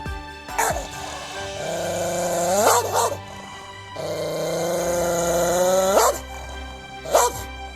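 A dog barks in short, spaced bursts, a few loud barks separated by drawn-out tonal whines or howls, close to the listener.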